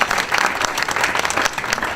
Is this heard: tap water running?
no